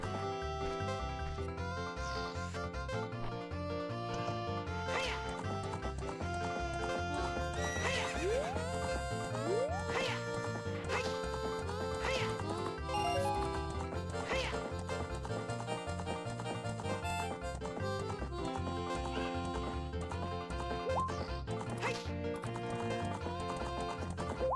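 A horse in the Zelda game Ocarina of Time gallops with rhythmic clip-clop hoofbeats and repeated whinnies over steady, loud in-game music, with occasional faint talk.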